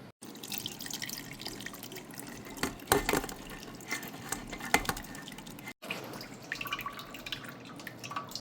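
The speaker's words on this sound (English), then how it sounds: "I'm going to pour this through my colander and strain off this liquid" Liquid from homemade pickle relish is poured through a colander and drains off in a quiet, steady patter of drips and trickles, with occasional light clinks of kitchenware and no talking.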